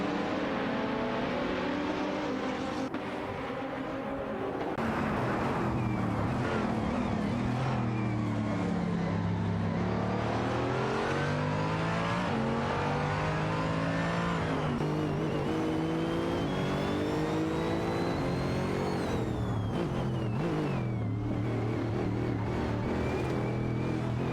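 McLaren and BMW GT3 race cars in an AI-driven race, engines droning and revving continuously as cars run close together, pitch rising and falling through gear changes and passes, steady and fairly loud with no talk.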